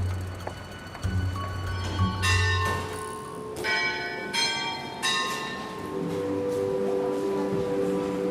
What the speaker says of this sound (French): quand la cloche sonne, les portes s'ouvrent